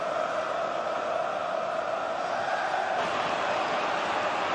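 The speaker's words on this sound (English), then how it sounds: "Crowd wanting one last attack in the last few seconds of this fifth-round replay" Stadium crowd at Manchester City against Huddersfield Town in an FA Cup fifth-round replay, roaring for a final attack in the last seconds. The noise is a dense, constant wash of sound with no break.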